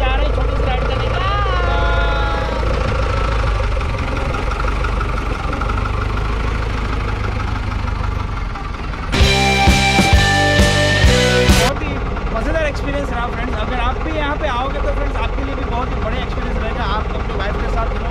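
A jeep engine idles and pulls away on a short resort ride at Sasan Gir, a steady low rumble running under talk throughout, with a brief burst of louder clatter partway through.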